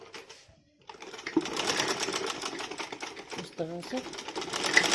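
A sewing machine stitches elastic onto a dhoti salwar with a fast, steady mechanical chatter after a short pause, and someone speaks softly over it.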